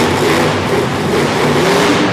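A monster truck engine roars loud and close at a Harrisburg, Pennsylvania arena show, revving in rising and falling surges with a deep, dense growl and no break.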